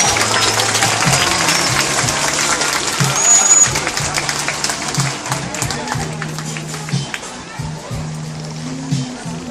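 Audience applause at a dolphin show in Athens, steady broadband clapping from a crowd with splashing water and a voice over a loudspeaker running through it.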